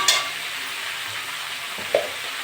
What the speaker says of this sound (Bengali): ঝিঙেগুলো দিয়ে দেবো, নেড়ে চেড়ে নেবো।